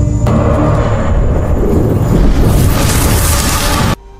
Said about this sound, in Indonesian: Ledakan besar itu mengagetkan Cleaner Junior dan seluruh bawahannya